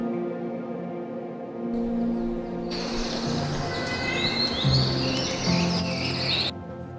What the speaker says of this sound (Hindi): एक सिंगल कॉल वेस्टर्न ट्रैगोपैन की थोड़ी दूर से सुनाई देती है।